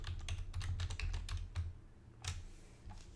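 Fingers type text on a computer keyboard in quick, uneven bursts of close, light clicks, with a short pause before a final few taps.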